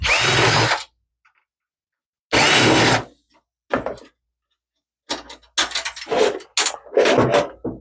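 A power screwdriver whirs in short bursts, backing out the screws that hold the CD-ROM drive in an old 2010 Dell Vostro 460 desktop case, with gaps of silence and clatter of handling in between.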